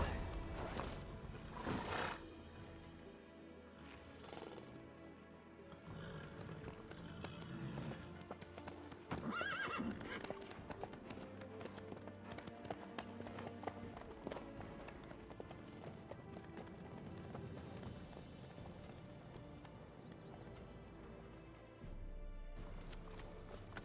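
A horse in The Witcher 3 clip-clops at a steady gallop and lets out a clear whinny partway through, with game music and ambience underneath.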